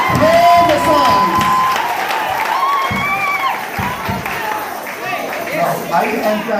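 A church congregation claps and cheers loudly, with whoops rising over the crowd while a preacher's voice carries on over the noise; the applause is strongest at the start and then settles into a background roar.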